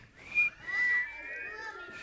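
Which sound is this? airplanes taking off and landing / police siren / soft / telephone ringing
soft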